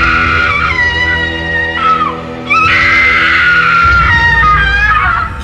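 A woman screams loudly on waking, long wavering high-pitched cries that keep going with brief breaks, close and intense, with no talk over them.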